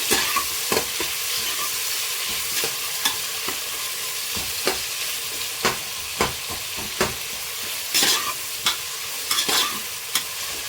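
Chopped onions, three or four of them, sizzle steadily in a hot pan while a spoon stirs and scrapes at irregular intervals, giving a constant frying hiss punctuated by clattering knocks.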